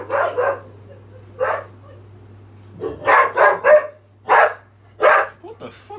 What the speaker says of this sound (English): Dog just came in, barked at everything, and then went off.